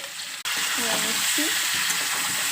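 Potatoes frying with turmeric and salt in a pan for a vegetarian aloo dum, a steady loud sizzle with brief stirring scrapes, cut by a short gap near the start.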